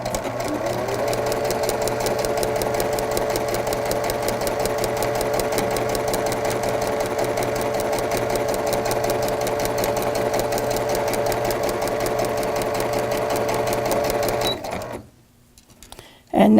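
A sewing machine stitches a fabric seam in one long, steady run of fast, even needle clatter lasting about fifteen seconds before stopping abruptly.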